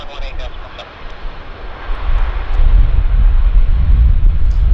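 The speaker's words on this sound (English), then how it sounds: "Isn't that cool? Japan Airlines 767-300." A Japan Airlines Boeing 767-300 at Vancouver Airport, its engine roar building from a distant hiss to a loud, rumbling drone with wind buffeting the microphone.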